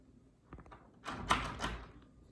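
A locked bedroom door being tried at home: a couple of faint knocks, then louder rattling thumps of the door shaking in its frame, close by, with no talking.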